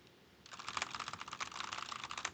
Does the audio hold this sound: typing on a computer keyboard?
yes